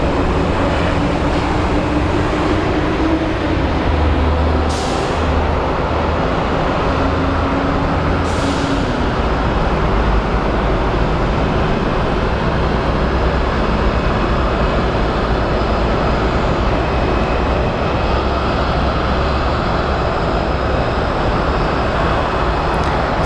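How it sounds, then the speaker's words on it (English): A five-year-old Boeing 737 airliner arriving, a long steady rumbling jet roar at a distance with a low drone underneath, two brief faint bursts early on, no voices. "So it's a 5-year-old Boeing 737"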